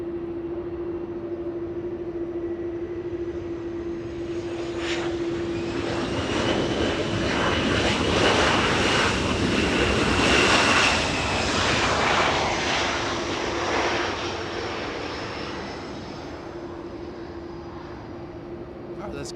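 A jet airliner takes off at Los Angeles International Airport, its roar swelling loud and broad from a distant rumble to a peak, then slowly fading, with a steady high whine running early on.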